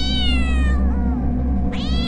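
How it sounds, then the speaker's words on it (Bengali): A cat in a Bangla horror cartoon lets out loud, drawn-out crying meows, one long wavering wail followed by a second rising cry, over a low steady background rumble. "হঠাৎ একটা বিড়াল কোথা থেকে জোরে কেঁদে উঠল,"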